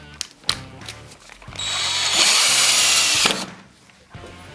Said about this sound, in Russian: Давайте возьму второй саморез, также покажу вам, как работает хорошо муфта.